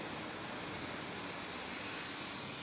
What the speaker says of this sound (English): Sorry, airplane.